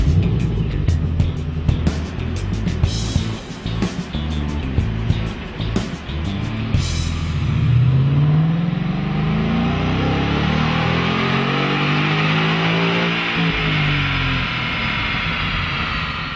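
A 2011 Ford Mustang GT V8 runs on a chassis dyno at an air filter maker's facility in Riverside, California, its loud engine sweeping steadily upward in pitch through a sustained pull after some rougher rumbling, with no talk.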